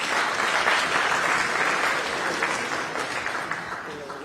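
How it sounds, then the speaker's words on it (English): An audience at a formal event breaks into a full round of applause, dense and sustained at first and gradually thinning and fading toward the end. "Can we please have a big round of applause for everybody?"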